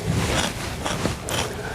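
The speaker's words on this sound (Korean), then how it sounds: "연수 씨 이렇게 드시는 소리가 아삭, 아삭 들리시죠?" Someone chews a mouthful of raw Korean radish salad right at the microphone, a loud, dense crunching that runs continuously with a few sharper bites, no words spoken.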